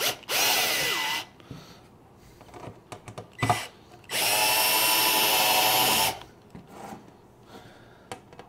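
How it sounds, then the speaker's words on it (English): Two loud bursts of a power drill whirring, each about a second or two long, with scraping and clicking handling sounds in between, while assembling a Central Pneumatic sandblasting cabinet. "if you want to use a drill just to go a little bit faster"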